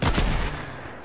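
A single loud, sharp sniper rifle shot in Fortnite, close and alone, cracking at the start and then fading out over a second.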